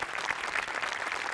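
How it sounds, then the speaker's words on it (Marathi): Studio audience applauding at a Marathi comedy show, a dense, steady wash of clapping throughout with no talk over it. "एकदा जोरदार टाळ्या व्हायला पाहिजेत."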